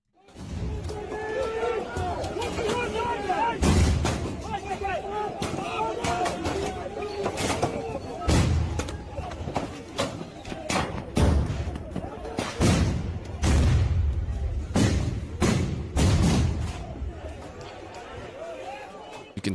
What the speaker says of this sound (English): You can see and hear those explosives going off.